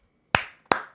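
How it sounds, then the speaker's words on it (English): Two crisp hand claps ring out close by, spaced a bit under half a second apart, each decaying quickly into silence. "I got to go ahead and clap it up for you, man."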